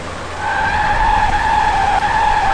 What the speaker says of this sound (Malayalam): വണ്ടി തെന്നുന്നു. ഇത് എൻ്റെ